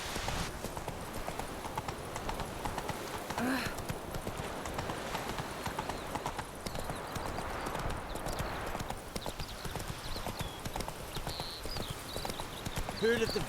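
Hooves of Roach, Geralt's horse in The Witcher 3 video game, clip-clop steadily at a gallop throughout, mixed with game ambience and an occasional whinny.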